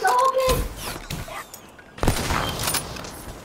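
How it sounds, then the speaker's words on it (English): Shooter video game gunfire, a few sharp close shots and short bursts separated by quieter gaps, with a voice talking under part of it. "Don't shoot guns at me"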